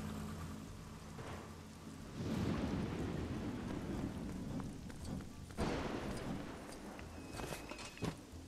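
Rain and thunder in Lego Harry Potter: low rolling rumbles swell and fade over a steady hiss of rain, with a few sharper cracks and scattered thuds, moderately loud.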